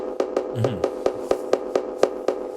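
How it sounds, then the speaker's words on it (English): A sequence of short, sharp tom drum hits in a steady rhythm, about ten strikes over a sustained tonal hum, each hit crisp and clicky. "It's a tom."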